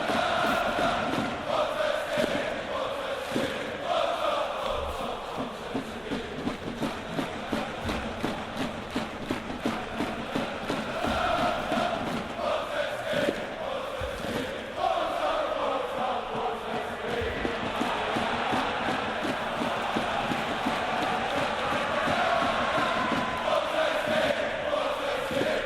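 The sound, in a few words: crowd chanting and cheering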